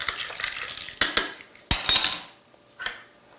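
A spoon stirring a mixed drink of ginger ale and lime, making light clinks and taps against the glass and a few brighter chimes among faint fizzing, close and quiet, then fading to near silence.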